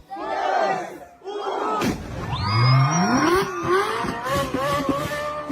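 A Ferrari engine revs at a gender reveal, its rising whine climbing over loud, continuous crowd shouting and cheering.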